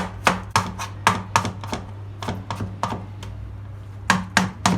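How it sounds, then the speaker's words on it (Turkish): A knife chops tomatoes finely on a cutting board for a Kilis-style meat tray dish, giving a series of sharp, close wooden taps in quick irregular bursts with short pauses between them. "Özellikle domatesimizi iyice küçültelim."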